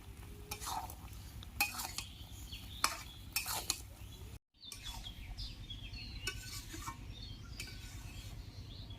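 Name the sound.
stirring jujube pickle in a pan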